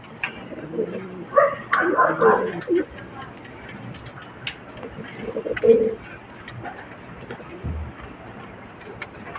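Soft, low pigeon coos come in short bursts, with a couple of louder rounds in the first half, over steady background murmur.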